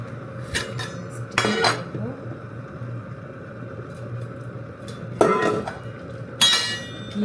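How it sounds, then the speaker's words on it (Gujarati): Hot ghee is strained into a steel container, heard as a few sharp metallic clanks and scrapes of steel utensils over a low steady background, with quiet stretches between the bursts and no voices. "પહેલાં ઘી ગરમ કરી નાખ્યું છે, તો ઘી ગાળી દઉં"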